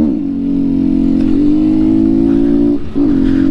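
Honda Bros 160 motorcycle with no air filter, engine droning loudly and steadily as it accelerates toward top speed, with a short dip and recovery near the end like a gear change.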